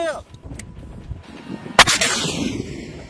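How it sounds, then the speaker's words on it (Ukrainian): A single sharp, loud artillery blast cracks out midway, followed by a lingering rumble and echo, with faint voices and noise beforehand. "Постріл!"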